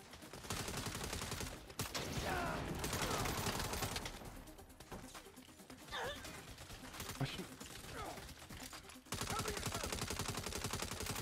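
Rapid, continuous gunfire from the Saints Row video game runs almost the whole way through, a dense rattle of shots that eases in the middle and picks back up toward the end.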